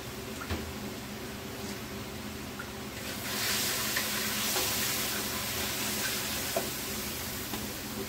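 Bengali spice paste of cumin, green chilli, salt and turmeric sautéed in a pan: a close, steady sizzle that swells louder partway through as it is stirred, with occasional scraping taps.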